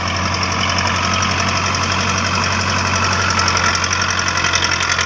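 A tractor engine runs steadily with a mid-pitched, knocking idle and constant vibration, close and loud with no talk.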